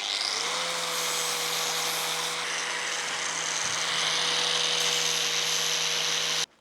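A power tool sharpens a homemade steel wood-splitter blade with a steady, loud, high-pitched whine that runs continuously for several seconds and then cuts off abruptly.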